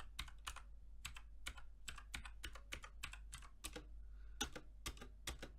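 Typing on a Sandberg Hailstorm keyboard, a steady run of crisp, close key clicks in quick uneven bursts with short pauses, quiet and with no voices.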